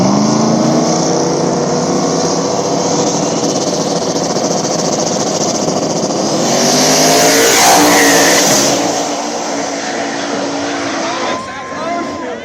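An RX-7 race car launching at a small-tire drag race: a loud, sustained engine roar that builds in pitch, swells to a harsh peak partway through, then drops back as the car runs down the track.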